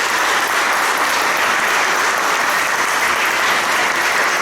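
A church congregation breaks into loud, sustained applause, a dense and unbroken roar of clapping at steady full volume throughout.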